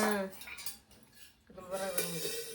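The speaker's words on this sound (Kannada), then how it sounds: "ಅಲ್ಲ ಇಡ್ಲಿ ಪಾತ್ರೆ ಒಂದು, ದೋಸೆ ತವ ಒಂದು" Metal idli steamer pot and dosa tava knocked and set down, a few close clinks and rattles of metal cookware with a quiet pause midway.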